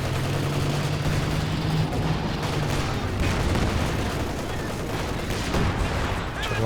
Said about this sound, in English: Oh, Sherman takes a big hit. Jackson returning fire though.